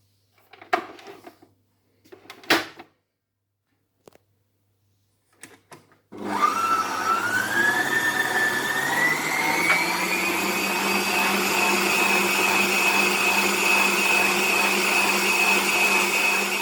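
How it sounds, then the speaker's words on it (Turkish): An electric hand mixer starts up and whips cream with vanilla, running as a steady, close motor whine that rises slightly in pitch and keeps on uninterrupted after a few brief knocks and clatters at the start. "Şimdi içerisine vanilya ekleyip 2-3 dakika daha çırpıyorum."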